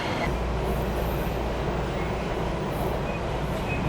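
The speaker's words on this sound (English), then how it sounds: "All right, train has arrived. Metro Rail has arrived." A Miami Metrorail train pulls into a station with a steady low rumble and rolling wheel noise, faint squeals rising briefly over the constant hum.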